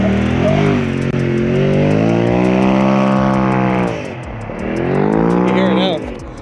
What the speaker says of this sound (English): All right, blow-off valve is on. It's adjusted. Let's see what it sounds like going down the street.